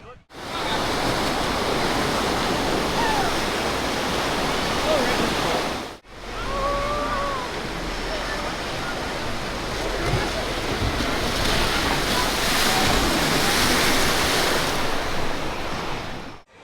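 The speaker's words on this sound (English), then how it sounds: "Now this is their wave pool." Churning waves of the wave pool at Idlewild and Soak Zone water park in Ligonier, Pennsylvania, a continuous loud wash of water and wind noise with a brief break, crowd sounds faintly mixed in.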